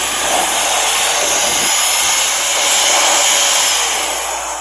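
A JBonest cordless air duster runs at its third speed setting, a loud, steady high-pitched whoosh of blowing air that holds constant for several seconds before easing slightly at the end.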